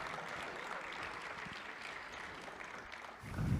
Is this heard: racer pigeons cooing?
no